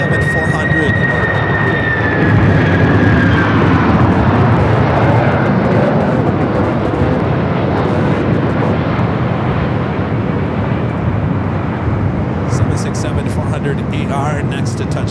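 A Delta Boeing 767-400ER landing at Los Angeles International in gusty winds, heard as a loud, steady broadband roar of jet engines and airflow across the whole span, with a brief high whine early on.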